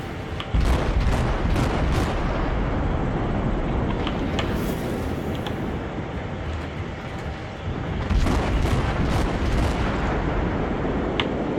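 Naval guns in World of Warships fire in rolling, booming volleys, with heavy blasts and dense rumbling clustered at the start and again near the end, loud and without talk.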